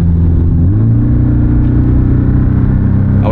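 An Abarth car engine pulls uphill on the Bilster Berg race track under light throttle, a loud, steady mid-pitched drone with rising harmonics, close and continuous with no talk.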